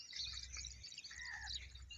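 Crows call faintly in the distance around a house yard after rain, short harsh cries over a soft outdoor background.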